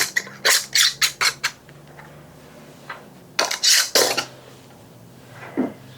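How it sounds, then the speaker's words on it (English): New metal lids and rings are screwed fingertip tight onto glass canning jars of bean and bacon soup, giving close, sharp clinks and scraping metal-on-glass clatter in two quick clusters with a few lone taps after them. "Brand new lids. And a ring, fingertip tight."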